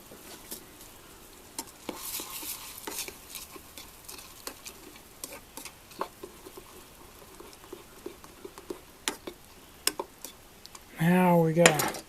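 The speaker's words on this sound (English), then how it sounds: "Put this rice in the boiling water and stir it." Instant rice being stirred in a pot of boiling water, with scattered light clinks and scrapes of a utensil against the pot, quiet and close, ending in a brief louder burst of scraping.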